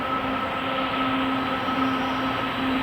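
Steady rumble of an LRT train at Marikina station, a constant loud rolling roar with a sustained tonal whine, no voices.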